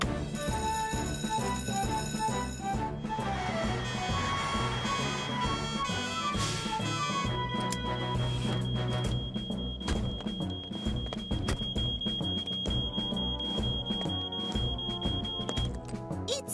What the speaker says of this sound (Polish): Dobrze wiesz, że z tym alarmem jest wszystko w porządku, Norman.